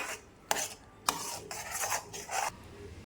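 A thick mixture is stirred in a pan on a low flame, making four or five distinct scraping, rasping strokes of a spoon against the pan at an unhurried pace, close and moderately quiet, with no talking.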